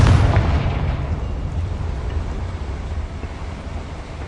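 A Confringo fire spell blasts in Hogwarts Legacy on PS5: one loud, booming explosion that hits at once and then rumbles away over several seconds.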